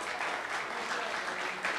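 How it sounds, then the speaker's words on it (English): Steady applause fills a property owners association board meeting room, a full crowd clapping continuously and fairly loud for the entire short stretch. "Let's give them one more round of applause"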